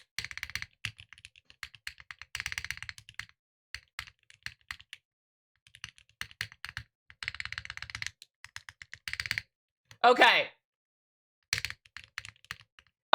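Fast typing on a computer keyboard during a typing test, in bursts of rapid key clicks separated by short pauses, close and clear, with a brief spoken word and a short vocal sound in the middle.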